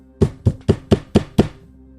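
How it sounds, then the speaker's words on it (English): Six heavy, evenly spaced bangs on a door, loud and close, each a dull thudding knock with a short decay, sounding alone. "hear banging on a door."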